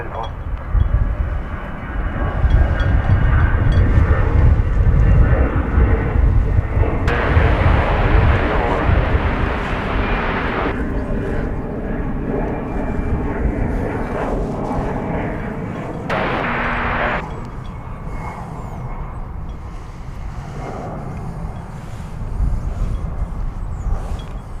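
An American Airlines airliner takes off at DFW International Airport, its jet engines a loud, deep roar that builds and holds for over twenty seconds while air traffic control radio chatter plays over it.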